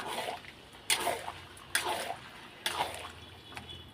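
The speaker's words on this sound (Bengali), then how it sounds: "দেখো আন্দাজ করে একদম জল দিয়ে দিয়েছি" Water is poured into a pan of boiled peas cooking for ghugni, heard as several splashy pours in separate bursts about a second apart, close and moderately soft, with a low background hum.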